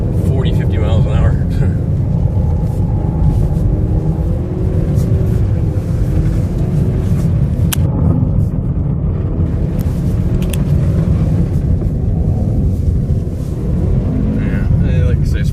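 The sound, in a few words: Ford car driving on winter test course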